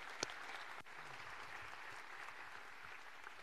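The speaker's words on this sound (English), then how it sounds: "let's give them a round of applause" Soft, steady applause from a university lecture audience, fairly distant, with a couple of sharper claps near the start.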